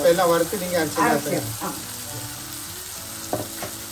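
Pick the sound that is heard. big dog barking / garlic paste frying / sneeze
garlic paste frying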